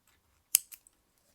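Scissors snip through macrame cord close up, one crisp cut followed by two smaller clicks of the blades, in an otherwise quiet room.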